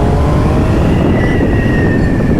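A 2025 Triumph Tiger Sport 800 motorcycle accelerates on the road, its engine note rising steadily and loudly through the whole stretch, mixed with heavy wind rush and no talking.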